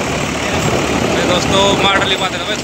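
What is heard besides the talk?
Indofarm 3055 NV tractor engine running with Shaktimaan rotavator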